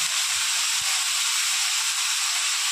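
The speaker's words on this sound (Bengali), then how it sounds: "এবার আমি সোয়াবিন আর আলু ভেজে নেব।" Soybean chunks and potatoes frying in a wok give a steady, loud hiss and sizzle that fills the whole clip without a break, with no talking.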